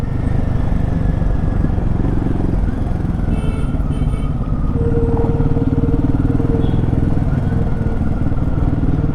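A new Royal Enfield Himalayan motorcycle cruising in third gear at about 33 km/h: loud, continuous engine thrum with steady exhaust pulses and wind rumble, heard from the rider's position.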